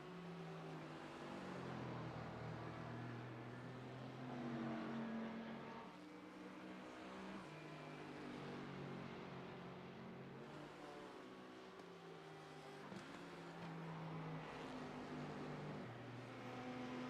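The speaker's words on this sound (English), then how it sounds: "you want to hear the digital engine sound over the sound of our beautiful voices" A race car engine in a sim racing game during a virtual 24-hour endurance race at Zolder, loud and continuous, its pitch climbing and dropping through repeated gear shifts over about seventeen seconds without talk.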